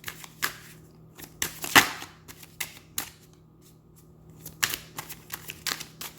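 A deck of tarot cards is shuffled by hand in a quiet room, producing irregular bursts of crisp papery riffles and taps with short pauses between them.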